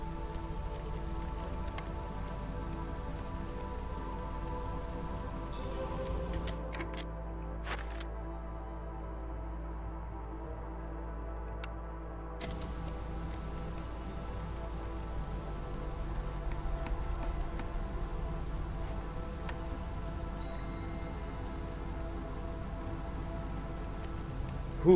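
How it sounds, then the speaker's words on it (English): Steady rain falls throughout the Against the Storm video game soundscape, a dense drizzling hiss layered over low tonal game ambience, with a brief quieter dip midway and no voices. "But it did get us back into the drizzle."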